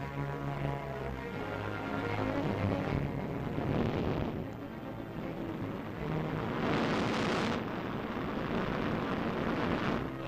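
A Thor-Able rocket lifts off carrying the Explorer VI satellite, a sustained loud, broadband roar that swells and surges across the whole span with a rushing, windy texture.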